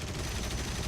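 A Yak-1B fighter's guns fire a sustained machine-gun burst in War Thunder, a dense, continuous rattle with steady loudness and no talking over it.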